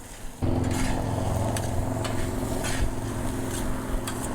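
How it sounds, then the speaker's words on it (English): Sloppy joe mixture is stirred on a Blackstone griddle. A loud sizzle starts abruptly and holds steady, with a spatula scraping the flat-top in repeated strokes close by and no voices. "Give this a good mix."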